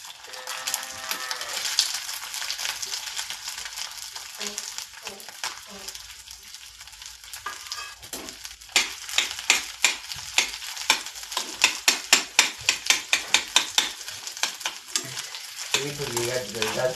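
Vegetables fry in hot oil with a busy sizzle, while a spatula scrapes and taps the pan in quick repeated strokes that grow more rhythmic toward the end.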